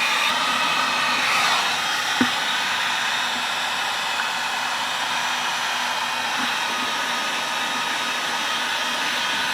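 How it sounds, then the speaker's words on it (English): A heat gun blows steadily and close by, heating a plastic bucket being shaped over a screwdriver; a continuous airy roar holds throughout with one brief tick near the start. "I've got a screwdriver that I'm going to use as a form, and just turn the heat gun on."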